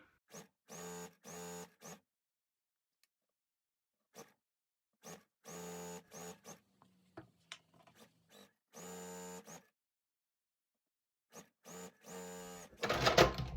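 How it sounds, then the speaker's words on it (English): Sewing machine stitching jelly roll fabric strips together, right sides facing, in steady whirring bursts of a second or two separated by pauses, with brief handling noises between runs and a louder rustle at the end. "I will just keep sewing until I have all these sewn onto"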